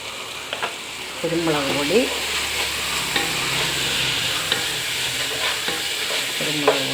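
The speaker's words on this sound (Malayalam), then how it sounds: "പേസ്റ്റ് നല്ലപോലെ ഇളകി ചേർത്ത ശേഷം നല്ല ബ്രൗൺ കളറാകുന്നത് വരെ അതിനെ ഇളക്കി കൊടുക്കണം" Spiced paste sizzles and fries in a pan while being stirred until brown, steady frying hiss with intermittent scraping stir strokes, close and moderately quiet, no talking.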